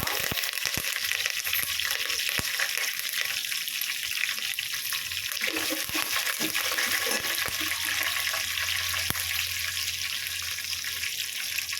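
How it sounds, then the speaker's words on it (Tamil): Curry leaves crackle and sizzle as they hit hot oil for lemon rice, a steady, close frying hiss that runs through the whole stretch, with a few sharper pops and a brief burst of spitting midway. "அதுக்கப்புறம் கருவேப்பிலை போடுறோம்."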